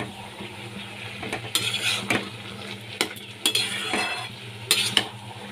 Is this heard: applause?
no